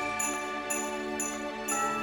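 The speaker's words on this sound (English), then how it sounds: "I've added in Albion 1 long strings now because it was just an easy solution" Albion long strings hold a sustained, lush orchestral pad for a classic Christmas cue introduction, steady and soft, with a faint high shimmer pulsing roughly every half second.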